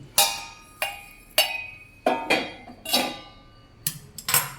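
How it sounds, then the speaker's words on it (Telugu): Raw tomatoes being chopped into small pieces on a cutting board for a pickle: about eight sharp, separate knife knocks and clinks with short gaps, close and fairly loud, with no talking. "రా టమాటోస్ చిన్న ముక్కలుగా కట్ చేసుకోవాలి."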